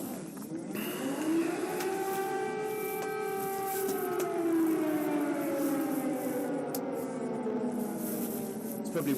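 Air raid sirens in a Ukrainian city wail with a rising, then slowly falling tone that holds over a long stretch, heard from a distance over a steady background noise.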